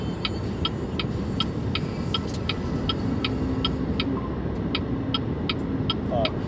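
Cabin hum of a 2025 BYD Seal 5 DM-i hybrid car under full-throttle acceleration in HEV mode, a steady broad road and engine drone with a regular ticking indicator-like click throughout.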